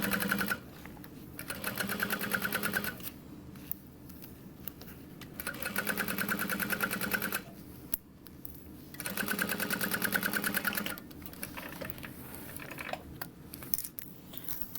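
A sewing machine stitches a seam on a leather Sarah Bag convertible backpack in bursts of steady rapid whirring, with short quiet pauses between runs.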